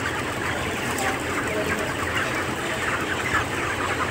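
Broiler chickens cluck continuously inside tunnel-ventilated housing, a dense flock chatter over a steady broadband fan hum.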